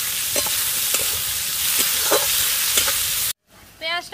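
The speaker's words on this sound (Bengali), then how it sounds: "পেঁয়াজটা খুব ভালো করে ভেজে নেব।" Chopped onions fry in mustard oil in a pan as a crab curry is being prepared. The sizzle is steady and close, broken by rhythmic stirring scrapes, then cuts off abruptly before a short voiced sound.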